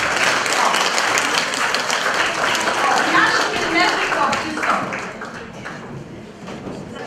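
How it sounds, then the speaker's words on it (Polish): Applause from a Polish village audience greeting the fire brigade chief at a Women's Day folk gathering: steady, dense clapping that runs for several seconds with voices talking over it. "Brawa dla pana Mariana."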